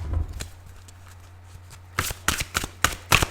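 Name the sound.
tarot cards being shuffled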